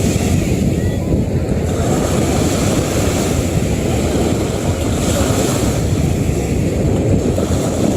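Ocean waves breaking on a shore, a loud continuous roar of surf mixed with heavy wind buffeting the microphone, steady throughout with no distinct individual crashes and no talking.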